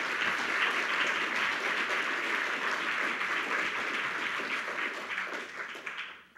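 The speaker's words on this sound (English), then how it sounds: "I would like a special round of, of, of applause for, for them." A crowd applauds steadily, a dense wash of clapping that holds for several seconds before tapering off at the end.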